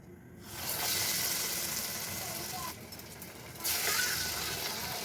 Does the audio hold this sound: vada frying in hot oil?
yes